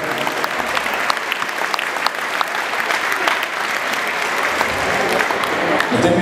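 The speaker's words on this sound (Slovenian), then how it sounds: "En velik aplavz za županjo." A hall audience at a dance school's closing performance applauds the mayor, dense sustained clapping that fills the room steadily, with a voice briefly audible near the end.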